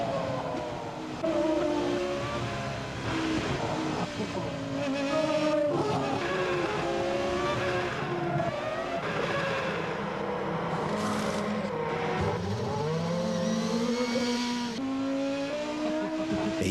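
A 280-horsepower V8 in a Lincoln LS luxury sedan with sport-tuned suspension roars loudly and continuously, with revving surges and hints of tire squeal sustained throughout.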